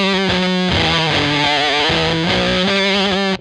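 Distorted electric guitar riff played with each note picked, giving a regular, sharp attack; loud, continuous, repeating melodic line close up with no talk.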